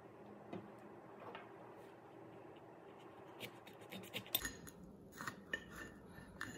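A knife slices open a Lemon Starrburst pepper, faint scraping at first, then sharper close clicks and taps of the blade against the cutting surface toward the end, with no talk.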